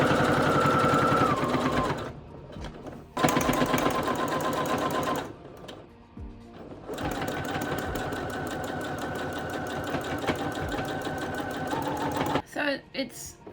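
A sewing machine stitches a loopy quilting pattern across patchwork bag handles, running in steady whirring bursts broken by short pauses, close and fairly loud.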